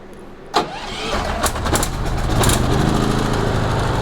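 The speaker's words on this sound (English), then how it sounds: "Starts up your generator." Generator on a mobile detailing trailer starting up: a sharp pull at the start, then the engine catches and settles into a steady, fairly quiet running hum, close by, with no talk.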